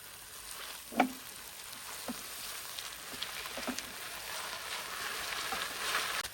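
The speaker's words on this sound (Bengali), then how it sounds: "তারপর আমি ভেন্ডিগুলো অ্যাড করতেছি" Okra frying in a pan with softened onions and green chillies, a steady soft sizzle with one clear thump early on and a few faint clicks, the hiss growing slightly toward the end.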